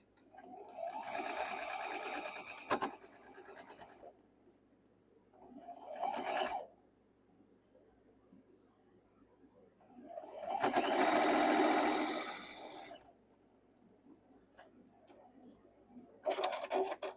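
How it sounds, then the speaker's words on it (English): A sewing machine stitches quilt block pieces in three bursts: a long run, a short one and another long run, then the start of a fourth, close and clear with quiet gaps between. "we're going to start sewing right like this"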